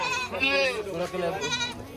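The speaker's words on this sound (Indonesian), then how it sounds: "kita kerjain suruh gendong anak kambing ini" A month-old goat kid, heavy for its age, bleats in a short wavering cry while being carried. People talk close by over the top of it.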